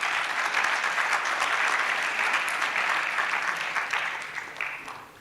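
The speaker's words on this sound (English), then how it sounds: "Just a hearty clap for them." Hearty applause from an audience at a youth forum for the lunch sponsors, a steady dense roar of many hands clapping that holds for several seconds and then tapers off.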